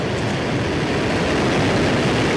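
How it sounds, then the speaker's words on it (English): SpaceX Falcon 1 rocket lifting off, a dense, continuous broadband roar that stays loud and steady from start to finish, with no speech over it. "Liftoff."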